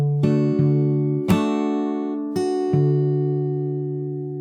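Fingerstyle acoustic guitar plays the second part of a song, with five plucked notes ringing over sustained bass and open strings at a steady, unhurried pace, close and clear with no voices.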